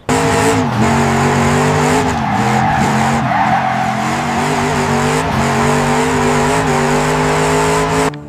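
Small RC cars racing in a lively contest, their motors whining with shifting pitch and tires squealing as they skid through turns, loud and continuous throughout.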